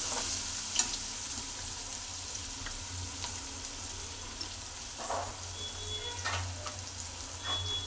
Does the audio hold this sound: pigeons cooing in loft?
no